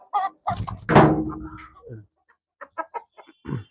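Tamil Nadu breed chickens, Bhimavaram stock, give one loud close squawk followed by a few short, sharp clucks with quiet pauses between.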